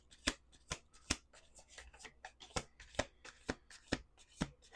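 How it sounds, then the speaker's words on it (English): Cards being shuffled in quick riffle bursts, a series of sharp crisp flutters repeating roughly every half second, close and clear with no talking. "Last shuffle."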